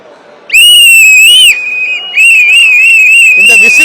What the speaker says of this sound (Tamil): இந்த விசில் சத்தம்